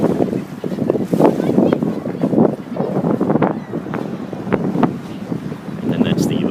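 Gusty wind at a lakefront buffets the microphone in uneven bursts, rising and falling in loud rushing waves with a low roar underneath.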